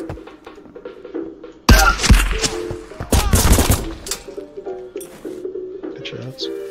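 Gunfire from an M1941 Johnson rifle in the Marauders video game, with loud bursts of shots in clusters over a noisy battle background, while voices talk around them.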